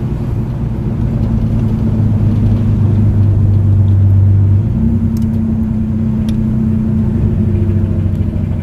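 A Barra-powered Ford AU Falcon accelerates hard through the gears with a loud, close engine roar. A clear pitch shift marks the gear change midway, and no one speaks.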